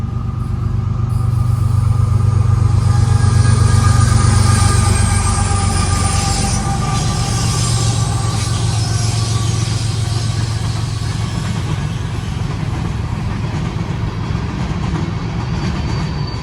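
An empty BNSF coal train led by new GE ES44ACH and ET44ACH locomotives rolls past at Mammoth Spring, Arkansas, a loud steady low engine rumble with continuous wheel and car noise and faint squeal.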